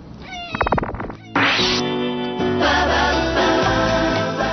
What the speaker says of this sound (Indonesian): Saat sang pemilik bernyanyi Happy Birthday, kucing lucu ini seolah-olah ikut bernyanyi.